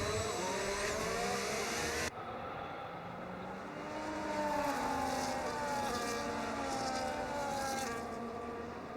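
F1 race cars from the F1 25 video game roll toward the grid before the start, their engines producing a continuous droning whine with shifting pitch, loud and steady throughout with no talk.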